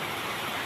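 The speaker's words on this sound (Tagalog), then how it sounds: "biglang buhos ng ulan" Heavy rain pours down in a sudden afternoon downpour, a dense, steady hiss of water striking surfaces, loud and continuous, with no voices.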